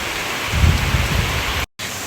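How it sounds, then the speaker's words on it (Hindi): Heavy rain pours in the mountains as a dense, steady roar of falling water, swelling briefly louder before a sudden momentary cutout and resumption. "इतनी तेज़ बारिश हो रही है"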